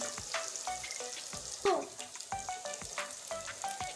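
Potatoes frying in a pan for a soybean and potato curry, a steady close sizzle broken by repeated scraping stir strokes and a few sharp clatters of utensil on metal, with no talking.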